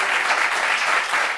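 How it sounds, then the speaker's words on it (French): Audience at a gathering clapping steadily, a dense even patter of many hands sustained throughout, with no voices over it. "Est-ce qu'on peut applaudir déjà ce miraculeux?"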